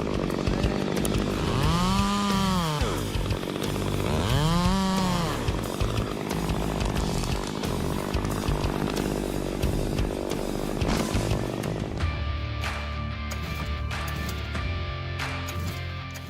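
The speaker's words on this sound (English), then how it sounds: "a chainsaw that dominates the task of cutting through huge blocks of wood" A chainsaw roars steadily, revving up and down a couple of times as it bites through a huge block of wood, then settles to a lower idling drone.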